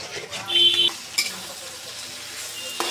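Pre-cooked small beef and potato pieces go into a pan for restaurant-style pasta, bringing a brief sizzle and scraping stir, with a short beep and clatter, close and moderately loud, and a voice talking over it.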